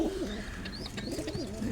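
A pigeon in a loft coos in soft, rolling throaty bursts, close by and repeated several times, with faint higher chirps from other birds behind it.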